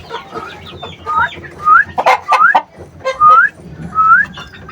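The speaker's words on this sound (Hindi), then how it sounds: "सीधी तख्ती का मुर्गा है माशाल्लाह" A Lasani rooster in a cage gives a run of clucking and rising whistly calls, loud and close, in short bursts with brief gaps between them.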